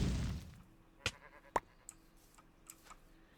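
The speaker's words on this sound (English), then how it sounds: "Just a sheep" Sheep in Minecraft bleat in a few short, separate calls of varying loudness after a brief burst of noise at the start, with quiet game ambience between them.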